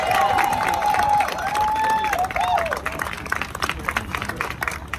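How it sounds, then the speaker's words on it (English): An audience applauds and cheers after a speaker at a tribute event calls for a round of applause, with steady clapping and a few whoops and shouts mixed in, fairly loud at first and then thinning slightly. "let's give him a round of applause."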